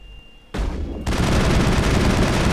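Sniper rifle gunfire during a firefight in Mass Effect: a quiet lull broken by an abrupt burst of shooting that swells into a dense, loud barrage of continuous fire.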